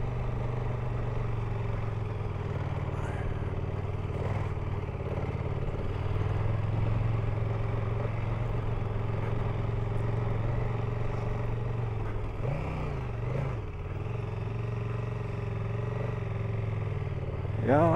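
A heavily loaded motorcycle carrying luggage labors up the steep Hardknott Pass, its engine droning steadily and close for the whole stretch, with wind and road rumble mixed in.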